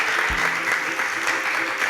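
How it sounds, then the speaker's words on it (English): A studio audience on a televised quiz show applauds with continuous, fairly loud clapping, with a brief low thump near the start. "Please a round of applause for our super SPAKs."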